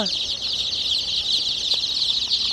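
A group of tiger chicken chicks keeps up a dense, continuous high cheeping close by, with faint background voices and a few light knocks underneath.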